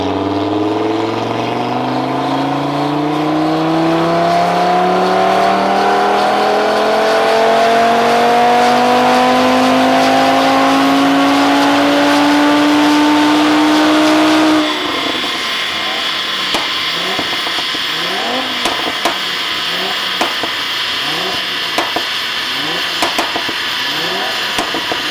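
A tuned Audi RS3 engine revs up hard on a dyno, its pitch climbing steadily for about fifteen seconds, then drops to a rough, rattling idle that continues to the end.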